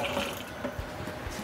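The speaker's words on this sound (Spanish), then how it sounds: "Vamos a adicionarle otro poquito más de agua." Water is poured in a steady, close trickle into Cuban-style pizza dough as it is being mixed, a soft continuous splashing with no talk over it.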